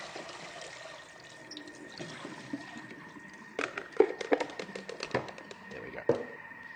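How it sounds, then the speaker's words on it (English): Tap water runs into a kitchen sink as pak choy is washed under it, a steady hiss that turns into louder splashing and sloshing bursts as the leaves are moved around. "let me wash my pak choy, because it looked a bit dirty"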